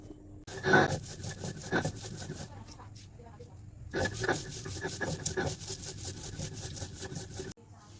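Fish paste being ground by hand on a grinding stone makes repeated rough rubbing and scraping strokes, close and steady, broken by a brief pause midway and stopping abruptly at the end.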